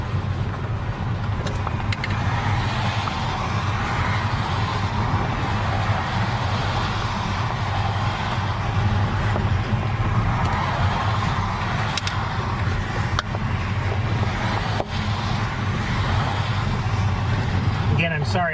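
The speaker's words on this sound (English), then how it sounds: "Again, I'm sorry about the road noise" From inside a car with the windows open for air, passing traffic makes a constant low rumble and whoosh that holds steady throughout, with no clear breaks between vehicles.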